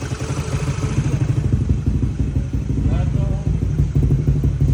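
A Yamaha Aerox scooter fitted with a version 4 teardrop exhaust pipe idles close by, a steady, fairly quiet engine putter running throughout under people talking.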